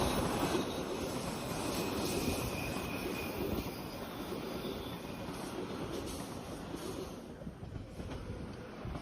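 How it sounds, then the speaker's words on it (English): A train rolls along the tracks east of Victoria Park Avenue in Scarborough, a steady, loud, continuous rumble of wheels with a faint high squeal, heard outdoors with no talking. "the sound of the train rolling along the tracks"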